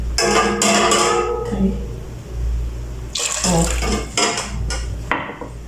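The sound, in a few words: pouring hot water into pot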